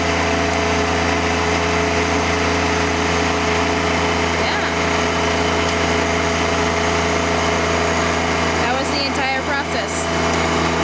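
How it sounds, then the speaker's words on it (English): A tiller driven by a John Deere 1025R tractor runs in a steady, loud drone with a constant low rumble and no break throughout. "there we got the tiller going"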